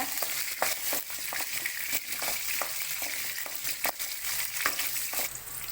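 Shallots (small onions) frying in a pan for a Tamil cucumber chutney, a steady loud sizzle with repeated scraping stir strokes throughout, no talking.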